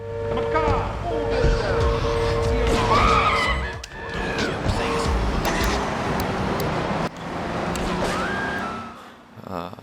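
A car driven in Grand Theft Auto III, with engine drone and road noise running steadily under game music and effects, loud and continuous, with a couple of brief dips.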